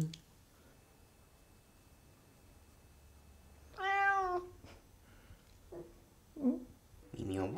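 Calico cat meowing close in a quiet home café: one clear, drawn-out meow, then a few shorter, softer mews and chirps, with a man murmuring faintly between them.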